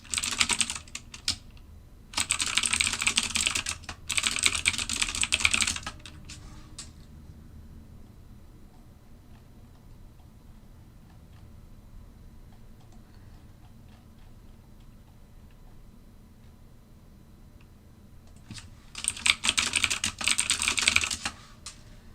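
Bursts of rapid clicking from a computer keyboard, two clusters at the start and another near the end, separated by a long quiet stretch with only faint low background hum; no one speaks.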